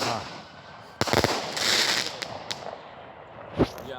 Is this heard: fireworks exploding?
yes